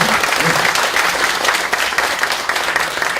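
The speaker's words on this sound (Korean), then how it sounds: "큰 박수 부탁드릴게요" An audience claps steadily in a dense round of applause.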